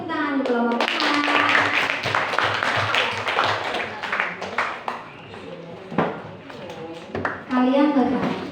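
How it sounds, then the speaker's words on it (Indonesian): A classroom of students claps for a group returning to their seats after a class presentation, the applause loud and dense near the start and thinning into scattered claps, with a teacher's voice and children's talk running over it. "beri tepuk tangan untuk kelompok 5"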